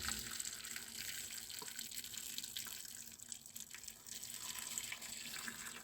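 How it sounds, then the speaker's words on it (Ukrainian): A steady rush of boiled water pouring into a pot over onions, continuous and fairly soft, with faint clinks and no voices. "Заливаємо кипяченою водою."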